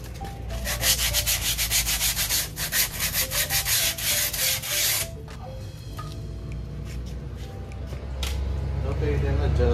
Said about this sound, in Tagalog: konting liha lang dito sa bago natin yung brake shoe.